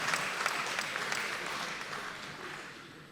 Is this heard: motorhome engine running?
no